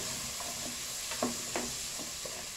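Onion frying in a pan gives a steady sizzle, with a few soft stirring scrapes and taps coming through near the middle.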